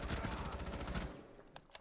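Rapid, dense gunfire in Rainbow Six Siege, a loud burst of overlapping shots that cuts off partway through, followed by a couple of isolated sharp reports in a quieter space.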